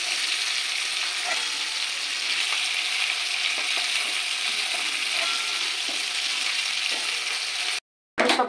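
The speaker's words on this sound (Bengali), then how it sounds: "এইভাবে হালকা করে ভাজতে হবে।" Chicken pieces sizzle lightly in hot oil in a pan, a steady close crackle with occasional soft scrapes, running continuously before a brief cut and a final burst.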